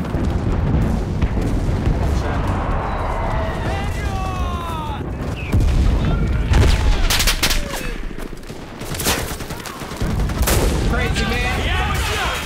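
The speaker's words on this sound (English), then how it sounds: "Shooting at me." Gunfire in the WWII shooter game Enlisted: dense, continuous battle noise with overlapping rifle and machine-gun bursts and booming artillery, loud and close, broken by sharper shot clusters, with voices speaking over it.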